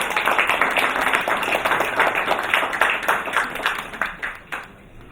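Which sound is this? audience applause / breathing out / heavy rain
audience applause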